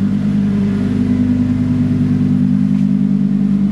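Audi car engine, warmed up, holding a steady mid-pitched hum close by that rises slightly as it is revved, continuous and without talk.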